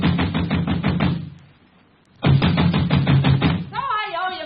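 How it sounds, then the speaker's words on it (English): Rapid, loud banging knocks on a door in a radio crime drama, two fast drumming bursts split by a short pause, followed by a voice beginning to speak. "I was soon banging on a door there like a drummer playing Bob."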